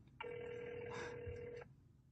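A telephone rings once in a single sustained electronic trill, clear and close against a quiet background.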